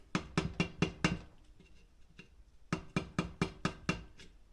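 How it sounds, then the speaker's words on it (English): A flat-blade screwdriver knocking built-up metal out of the grooves of a Hilliard Flame clutch shoe: rapid bursts of sharp metallic taps, a brief lull with a few lighter hits, then another quick run of knocks, close and unaccompanied. "grab a flat blade screwdriver, and you're just going to want to knock that metal out of those grooves"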